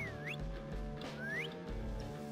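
A game character whistles in The Last Tinker, two short rising whistle glides about a second apart, faint over a steady bed of game music.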